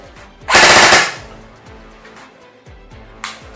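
ICS AK74 airsoft gun firing a short full-auto burst, a loud rattling half-second volley followed by quieter mechanical clicks and a brief final crack near the end.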